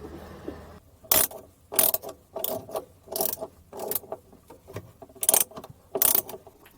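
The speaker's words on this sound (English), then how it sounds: "So I have to screw these in" Mounting screws are driven by hand into a Victron Multiplus 3000 inverter in a van conversion, giving a close series of sharp ratcheting clicks in an irregular rhythm with brief pauses between turns.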